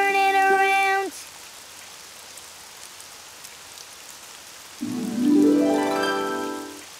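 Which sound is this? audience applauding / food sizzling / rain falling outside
rain falling outside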